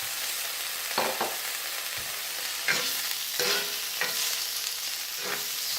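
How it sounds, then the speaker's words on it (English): Cauliflower, zucchini, carrots and lima beans are stirred in a hot pan, with a steady sizzle and several distinct scraping strokes spaced a second or so apart. No one talks. "Stir that up just a bit."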